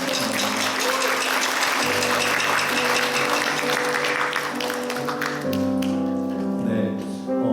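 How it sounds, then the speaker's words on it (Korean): Congregation at a Sunday church service applauds to welcome visiting guests, a steady, dense wash of many hands clapping throughout, with sustained instrumental tones, likely piano or organ, rising beneath toward the end. "환영의 박수 한번 보내주실까요?"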